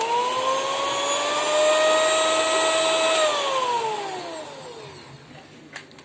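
An electric beater whipping cream hums loudly with a steady high motor whine, then its pitch slides down as it slows and is switched off, leaving a faint hiss and a small clink.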